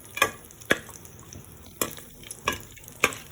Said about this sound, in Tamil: எண்ணெயை வச்சு கடுகு போட்டுக்கலாம்.